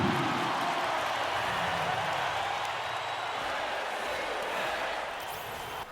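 Simulated basketball arena crowd from NBA 2K17 roars in a dense, steady wash of cheering that stays loud throughout and eases slightly near the end.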